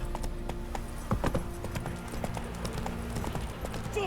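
Rapid, rhythmic hoofbeats of a horse galloping in The Witcher 3 video game, an even clip-clop under steady background ambience, with no talk over it.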